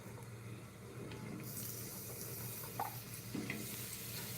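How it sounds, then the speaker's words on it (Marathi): Onion dropped into hot oil sizzles steadily in a pan for a fish curry, a constant close frying hiss that swells after a moment, with a few faint clinks and no talk. "तेल गरम झाल्यावरती इथे कांदा घालायचा आहे"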